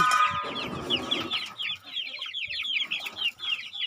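Chickens cluck in a quick, repeated series nearby under a chicken coop, with a short burst of louder squawking at the start.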